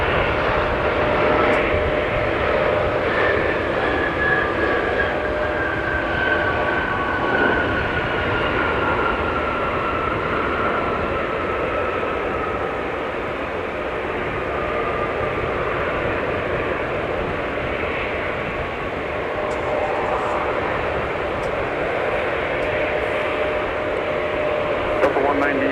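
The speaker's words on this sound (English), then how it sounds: "We got an arriving 757-200 from Cancun." A Boeing 757-200 arriving from Cancun at Minneapolis–St. Paul Airport during a winter storm, its engine roar a broad steady rumble with a faint whine sliding downward, under a spoken voice.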